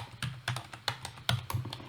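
Fingers type on a computer keyboard while entering a spreadsheet formula, giving a close, crisp run of uneven keystrokes with short gaps and no talking.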